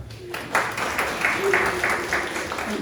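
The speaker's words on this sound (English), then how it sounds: "Give her a round of applause" A small audience breaks into brief, moderate applause at a talk, with scattered claps rising after a quiet start and carrying on steadily for a couple of seconds.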